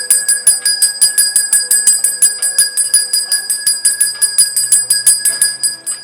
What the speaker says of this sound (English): the reason why I am ringing the bell a little bit longer